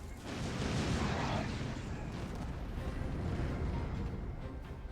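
Artillery fire during battle in the video game Hyrule Warriors: Age of Calamity, heard as a dense, continuous rumble of booms and blasts at moderate loudness with no voices.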